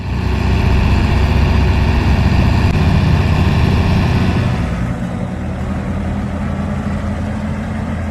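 A farm tractor stuck in mud runs its engine in a loud, continuous low drone, steady and close, with the upper tone easing off about halfway through; no voices.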